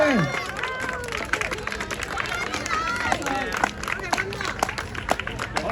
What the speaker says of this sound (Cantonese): 俾掌聲。